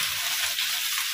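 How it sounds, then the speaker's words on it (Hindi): Spices such as cumin, mustard seeds and fennel tempering in hot mustard oil for a green vegetable dish, giving a steady, close, even sizzle with no talking. "तड़का लगाती हूँ सरसों के तेल में"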